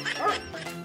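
A single short, yelping bark-like "oof" made by a human voice imitating a dog, close and brief.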